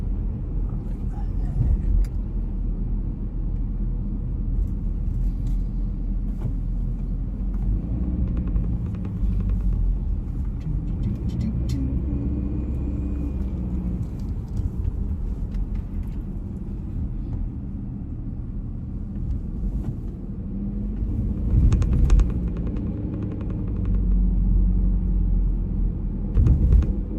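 A car rolls along a road toward Mount Rainier National Park with steady low road rumble and engine drone, close and continuous, the noise swelling briefly near the end.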